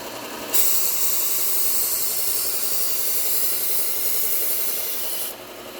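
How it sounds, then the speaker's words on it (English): A fishing knife is sharpened to raise a burr, making one continuous, loud, even rasping hiss that starts abruptly and stops after about five seconds, heard up close and alone. "Just bringing up a really nice burr on these knives."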